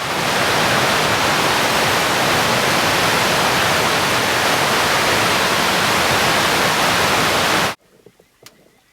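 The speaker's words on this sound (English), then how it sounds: "enjoy this shot of the waterfalls" A steady, loud roar of rushing water falling at the Kawagama waterfalls, constant and dense, cutting off abruptly near the end to near-quiet with a few faint sounds.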